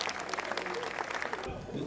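A crowd at a village gathering in Saint-Aubin-des-Bois, Eure-et-Loir, claps heartily in a brief, steady burst of close applause, with a voice faintly mixed in near the end.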